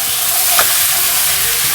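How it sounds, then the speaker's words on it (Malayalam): Prawn masala stirred gently in a pan, a loud continuous sizzle with one soft scrape of the spoon near the middle, close by and without speech. "വളരെ സോഫ്റ്റ് ജെന്റ്ലി ഇളക്കിയെടുക്കുക."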